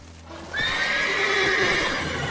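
Horses in the Witcher 3 video game whinny loudly over a steady ambient bed, with faint hoofbeats underneath and a long neigh sweeping high and then settling.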